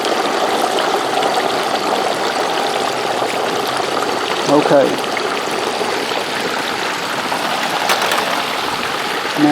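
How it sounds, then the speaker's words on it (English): A Thanksgiving turkey is lowered into hot frying oil, giving a steady, loud, bubbling sizzle like rushing water that runs throughout, with a brief burst of crackle midway and a short spoken word over it. "Slowly easing it down into the oil."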